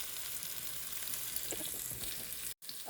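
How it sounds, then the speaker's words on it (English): Dry roasted peanuts hit a hot wok of sizzling Kung Pao chicken, a steady close frying hiss with scattered crackles and a brief stir-clatter, then a sudden short gap near the end. "Now we're going to toss in a 1/2 cup of peanuts, dry roasted."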